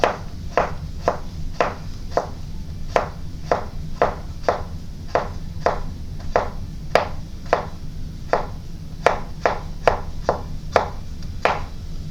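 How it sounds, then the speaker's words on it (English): A knife cuts a vegetable into thin slices on a cutting board for a salad, sharp evenly spaced chops repeating steadily one after another, close and clear, with no talking. "Cut it in half, thin slices, nice thin slices, so they'll stick to the lettuce in your salad."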